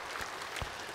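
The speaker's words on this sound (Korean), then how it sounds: "박수 한번 하실까요?" A church congregation claps briefly, giving a soft, distant patter of applause in a large room.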